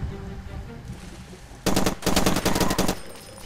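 Light machine gun firing in the Far Cry 2 video game: after a quieter stretch of ambient game noise, a loud, close burst of rapid automatic fire breaks out and continues in several fast volleys with brief pauses.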